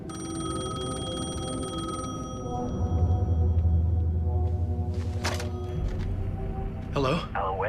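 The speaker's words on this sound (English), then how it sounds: "The payphone was ringing." Payphone ringing in Alan Wake 2, steady tonal ring tones over a low ambient hum, with a louder low rumble swelling midway and brief sharp noises near the end; no speech.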